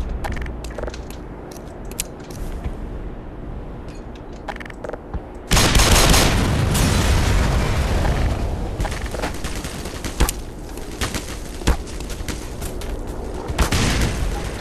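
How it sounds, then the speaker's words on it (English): Grenade blasts and gunfire in the shooter game Black Mesa, a loud sustained burst of explosive noise followed by scattered sharp bangs and crackles, with no talk. "These grenades are definitely not going as far as I want them to."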